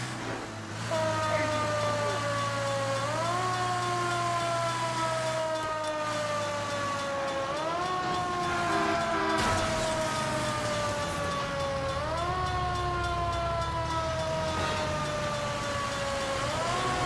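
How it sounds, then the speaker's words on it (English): Police car siren in the video game L.A. Noire, a wailing tone sweeping up and down in repeated cycles over running engine noise, loud and sustained for the whole stretch. "Put the siren on."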